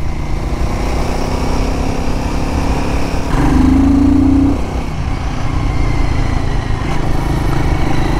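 A Royal Enfield Guerrilla 450 motorcycle engine while riding, a steady, loud, close thrum with a brief rise in revs partway through, wind noise around it and no talk.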